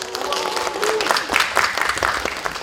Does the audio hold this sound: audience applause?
yes